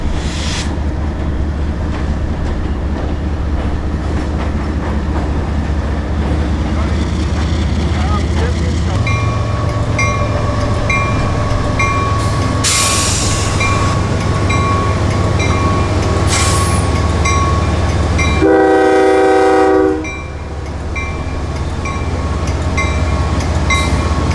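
The Bradenton local train creeps out onto a lowering bridge span with a heavy, steady rumble of engine and wheels, then a loud tonal squeal near the end.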